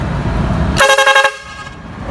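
A homemade car horn wired with a double switch and a tank blasts once, loud and close, a short bright honk that briefly stutters, set against steady background noise.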